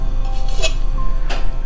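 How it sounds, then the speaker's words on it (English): Two metallic clinks of a lid set onto a cooking pot, close, over a steady background hum. "I'm going to put the lid"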